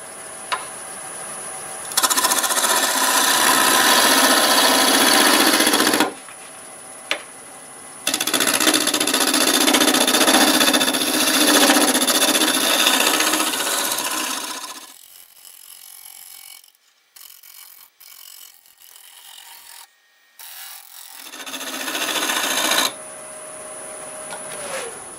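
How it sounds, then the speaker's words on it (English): A hole is drilled into a mimosa wood vase on a lathe turning at 850 RPM, a steady dense grinding whir in long stretches broken by pauses and a quieter stretch of clicks and knocks, close and continuous. "the last thing to do is to put a hole in here at 850 RPM."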